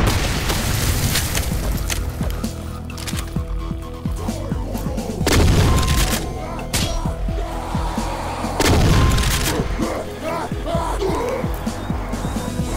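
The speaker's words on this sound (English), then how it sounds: "But first, blow up that barrel." An explosive barrel blows up in Doom with the Project Brutality mod, heavy booms landing twice over a constant roar of gunfire and game noise, loud and close, with a voice briefly heard.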